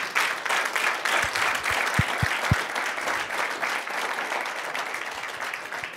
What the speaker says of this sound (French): j'aimerais que nous fassions un tonnerre d'applaudissements